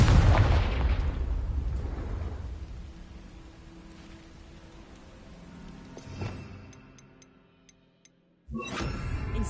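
A Confringo fire spell bursts in the Hogwarts game, opening with a loud booming blast that rumbles and fades over several seconds, then a sharper pop and a second burst near the end, with no talk.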